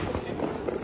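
Diwali firecrackers bursting in a dense, continuous crackle with no clear gaps between the pops, fairly loud and close throughout.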